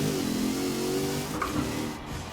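A Rossion Q1 engine revving in the Forza Horizon 4 racing game, a rising, strained engine whine with layered harmonics sweeping up then easing, moderately loud and heard alone.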